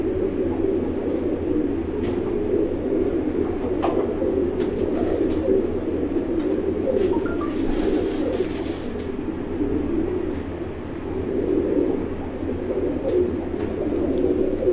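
Breeder pigeons on a rooftop coo in a continuous low, throaty murmur, many birds close together, with occasional wing flutters and no voices.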